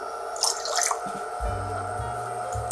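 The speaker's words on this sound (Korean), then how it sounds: "물 3컵 들어갔어요." A few drips, then a 200 ml cup of water poured into a pot for a pickling brine, a steady close trickle that runs until the end.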